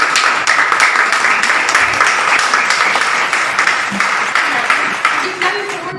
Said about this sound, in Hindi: इन सबके लिए तालियां बजाइए